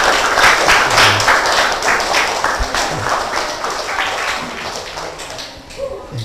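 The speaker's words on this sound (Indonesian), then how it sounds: "Oke, tepuk tangan untuk Putri" A small group in a classroom claps together in a brief round of applause that fades out, with a voice speaking near the end.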